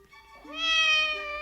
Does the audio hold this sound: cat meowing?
yes